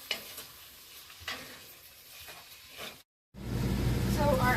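Onions and tomatoes cooking down in a large cast iron pan, with soft stirring scrapes for a few seconds, a brief pause, then a steady, louder sizzle filling the rest.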